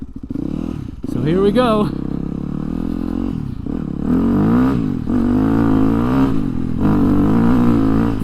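A Yamaha dirt bike engine fires up and revs, climbing in a rising whine before settling into a steady, loud idle with further revving, while someone talks over it throughout.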